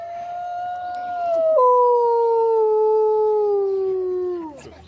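A single wolf howls loud and close, one long wavering tone that steps down in pitch midway and slides lower before breaking off, with faint background noise.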